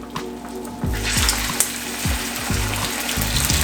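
Slices of steak sizzling in a hot pan, a steady crackling hiss with small pops that rises as the meat is laid in, heard close with a low tonal hum underneath.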